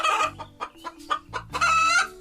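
A hen's clucking in a farmyard setting, a series of loud, close, repeated clucks and squawks with a few short pauses, building into a busier burst of cackling toward the end, with no talking.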